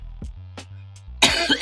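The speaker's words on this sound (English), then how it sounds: "Yeah, you hear me coughing and shit." A few sharp coughs close by, then a louder burst of harsh coughing and throat clearing with a low steady hum underneath.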